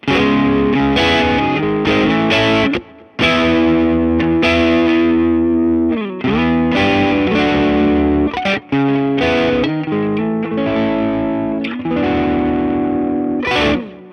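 A heavily overdriven electric guitar with a humbucker pickup, through an overdrive pedal in AmpliTube 5, plays dense, saturated riffs and chords almost continuously, loud and gritty with only brief gaps.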